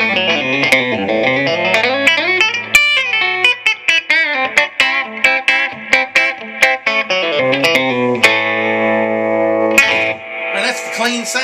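A 2005 Alessandro Rottweiler tube guitar amp plays a clean electric guitar tone, loud and close, with a run of plucked notes and chords, some quick staccato picking, and ringing sustained chords near the end.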